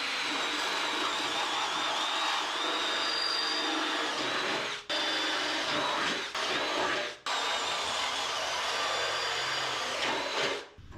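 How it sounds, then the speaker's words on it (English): A steady high-pitched whirring drill runs continuously through metal on a car fender, pausing briefly a few times between holes, fairly loud and close with no talking. "by drilling 4 holes in the corner"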